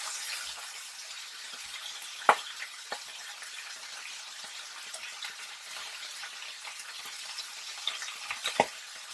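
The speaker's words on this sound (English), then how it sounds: "So we'll turn it all and we'll cook the meat." Thin pork slices frying in a pan, a quiet even sizzle with a few sharp utensil clinks and scrapes as the meat is turned, close by and without speech.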